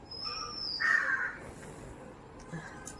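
Crows cawing outdoors while being fed, a few short harsh calls clustered near the start and middle, moderately close over faint background noise, no voices.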